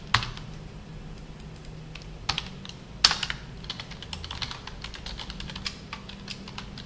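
Steady clicking of a computer keyboard while coding a web page, close and fairly soft, with a few sharper key strikes standing out among the quick irregular taps.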